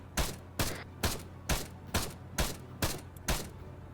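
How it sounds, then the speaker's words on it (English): Aircraft gun run in the video game Arma 3 during a winter op: eight loud, evenly spaced cannon bursts, each a sharp blast with a short rumbling tail, repeating about twice per second. "Let's do a gun run."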